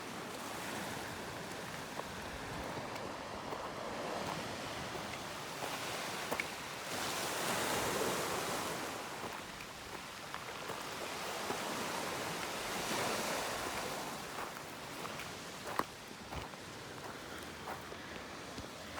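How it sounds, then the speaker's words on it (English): Sea waves washing over shore stones near a canyon hike at Agia Galini, Crete, a steady broad surf roar that swells and recedes in slow surges with some wind, no talking. "my favorite thing down here is when the waves hit the stones, they make really neat sounds."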